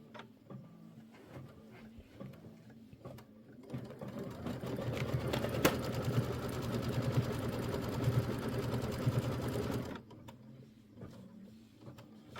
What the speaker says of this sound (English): Now it says stitch the outer tack down.